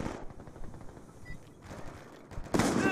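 Gunfire in Call of Duty Black Ops 2 multiplayer, a muffled rattle of automatic shots under game noise, with a louder, sharper burst at the very end.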